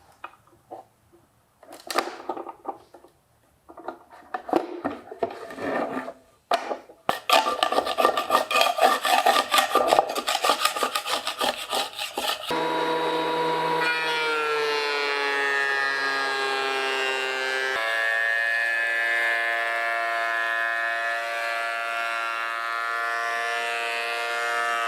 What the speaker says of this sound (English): I could send each piece through the planer to get the thickness I want